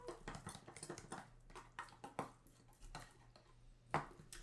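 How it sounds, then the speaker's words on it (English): Utensil mixing ingredients into sour cream in a bowl, soft irregular clinks and scrapes repeating close by, fairly quiet, with one sharper knock near the end. "we're going to add right into our sour cream there. We're going to mix this up."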